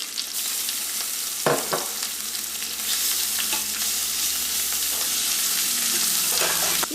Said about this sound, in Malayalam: ഇപ്പം ജിഞ്ചർ ഗാർലിക് പേസ്റ്റ് എണ്ണയിൽ കിടന്ന് മുരിഞ്ഞിട്ടുണ്ട്.